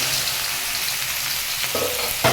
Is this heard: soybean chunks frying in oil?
yes